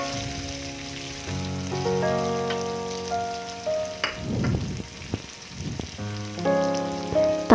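Tofu hitting a hot pan and frying for a stir-fry of tofu and bean sprouts in oyster sauce: bursts of crackling sizzle with scrapes and stirring clatter, and soft background music playing throughout.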